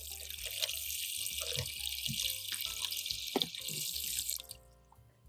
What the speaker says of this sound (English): Add a little water to wet the ginger.